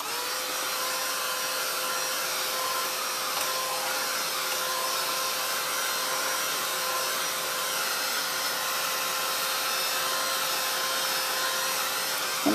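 A heat tool dries a mixed media art page with a constant, even, whirring blow of air that stays close and steady throughout without pause, and no voices.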